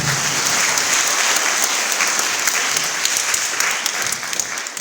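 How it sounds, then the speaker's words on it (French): A church congregation at a communion Mass in Thiès claps in a dense, steady burst of applause for the president, sustained and fairly close throughout. "Applaudissez le président"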